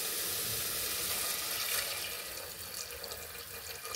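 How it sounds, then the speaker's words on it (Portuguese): Water pours steadily into a pot of sautéed dried beef for a pumpkin soup, a continuous hissing rush with faint sizzling, close and alone, easing slightly toward the end. "agora eu vou colocar a água para cozinhar ela"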